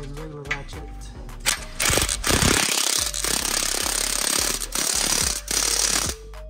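Hand ratchet clicking in a repetitive rhythm while tightening a catalytic converter nut on a car, close and fairly loud, with brief busy mechanical clatter midway.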